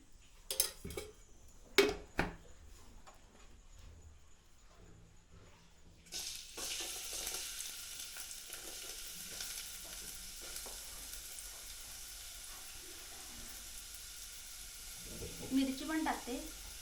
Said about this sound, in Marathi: आता फोडणी देते. यामध्ये तेल टाकते.